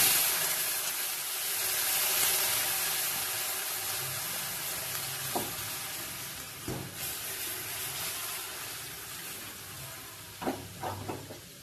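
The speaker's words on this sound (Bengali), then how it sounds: "এবার খানিকটা দুধ এইতে ঢেলে নেবো" Milk heating in a hot wok for a rasgulla and milk dessert gives a steady sizzling hiss throughout, with a few soft knocks and clinks near the end.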